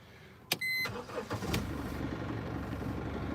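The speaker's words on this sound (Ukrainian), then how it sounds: "Заводите машину. Зараз, до речі, заведу, як вона працює" A 2009 Mercedes-Benz B200 with 272,000 km cranks with a sharp click and whine, then catches and settles into a steady idle rumble, close by.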